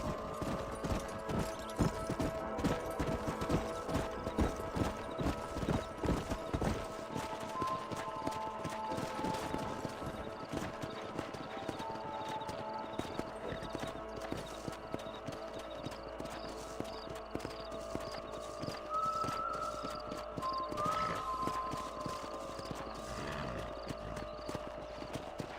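Horses in the Red Dead Redemption video game clip-clop steadily on the ground, a continuous rhythmic hoof patter at moderate distance over an ambient bed, with occasional faint tones.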